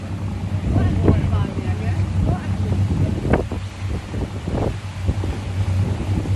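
Small wooden rowing boat out on dark sea water, with wind buffeting the microphone, water lapping and occasional knocks and splashes against the hull, steady and close throughout.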